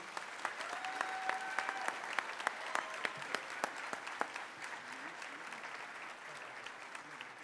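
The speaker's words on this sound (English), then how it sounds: "please applaud for our English department awardees" Audience applause at a high school underclassmen awards ceremony, honoring English department award winners; steady clapping from a seated crowd, moderately distant and fairly quiet, with sharper individual claps standing out and a faint voice or two.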